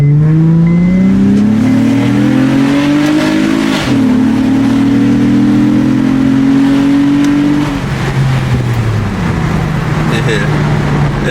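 2008 Honda Accord V6 fitted with a Weapon R cold air intake, revving loudly up and down with a throaty, rising and falling engine note, close by with people talking over it.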